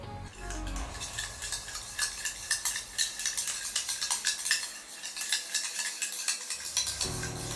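Dalgona coffee mixture of instant coffee and sugar is whisked by hand in a bowl, producing a fast, continuous, even metallic rattling that runs steadily for several seconds, close and moderately loud.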